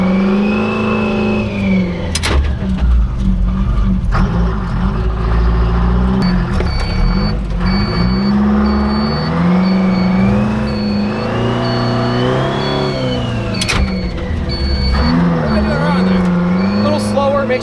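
A 1949 Ford F7 truck fitted with a Detroit Diesel engine and a slightly sticky throttle drives steadily, its loud continuous engine drone rising and falling in pitch as it revs. Someone talks over it throughout.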